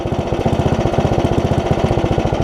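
Rhythmic, steady idle of a Craftsman Murray rear-engine riding mower fitted with an aftermarket carburetor, loud and close with a fast, even chugging pulse and no talk over it.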